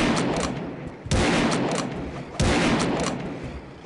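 Rapid gunfire in Realms of the Haunting, dense and loud, rising into two sharper bursts that fade back between them.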